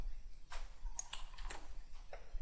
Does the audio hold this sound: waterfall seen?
no